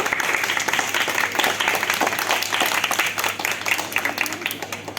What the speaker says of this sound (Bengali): সূর্যের জন্য জোরে একটা হাততালি